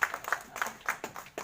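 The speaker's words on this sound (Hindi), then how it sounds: "तो सर के लिए जोरदार ताली बजाएं।" A small rural audience at a village natural-farming awareness meeting in Azamgarh, Uttar Pradesh, gives scattered, faint clapping. A few hands beat in a quick, loosely regular rhythm.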